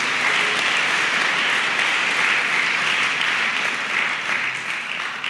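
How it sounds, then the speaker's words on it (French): At a Christmas church service, the congregation gives loud, sustained applause for the children who performed a choreography, a dense even roar of clapping throughout. "Applaudissez fort pour les enfants qui ont fait la chorégraphie."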